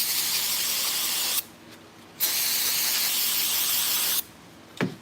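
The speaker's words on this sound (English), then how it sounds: "Load her up with some carb cleaner." Carb cleaner sprays from an aerosol can onto the air filter of a Stihl BG 50 or BG 86 handheld blower in two loud, hissing bursts separated by a short pause, the second burst cutting off just before a brief squeak.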